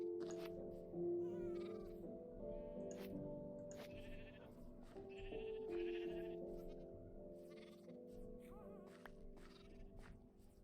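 Minecraft sheep bleat repeatedly in a farm pen, several short wavering baas from different animals overlapping at moderate distance over a soft, steady game background, with no talk.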